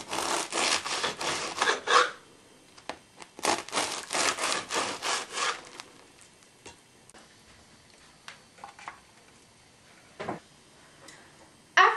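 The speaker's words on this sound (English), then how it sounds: "one fresh baked French loaf, which you can cut into sizes about this big, maybe 1 inch thick" A fresh-baked French loaf being sawn into thick slices with a knife, close and fairly loud: a steady run of rhythmic back-and-forth strokes for several seconds, then quieter scattered cuts and crumbly taps.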